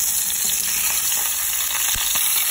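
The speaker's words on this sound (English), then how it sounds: "So after 4 minutes, we are going to flip our steak." Coffee-cured filet mignon steaks sizzle and spit steadily in a hot pan, a continuous loud frying hiss with a few soft knocks as they are turned, no voices.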